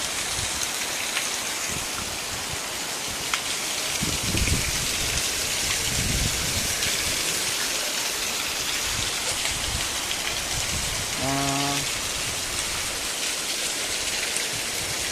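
A waterfall gives a constant, dense rushing roar that fills the whole clip, with a few faint thumps and a brief tonal chirp near the end.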